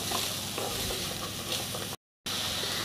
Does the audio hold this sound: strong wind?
no